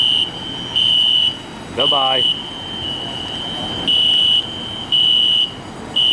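A building fire alarm sounds with a piercing high-pitched tone that pulses on and off in a repeating pattern, loud and close, while a voice speaks briefly between pulses.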